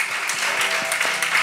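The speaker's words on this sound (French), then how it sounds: "Est-ce qu'on peut recevoir avec des applaudissements bien mérités le professeur" An audience claps to welcome a professor at a gathering, a brief burst of dense, close applause with rapid overlapping hand claps and no speech.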